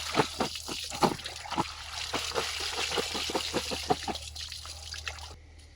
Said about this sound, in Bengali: আলুগুলো একটু ধুতে হবে, পানিটা দাও।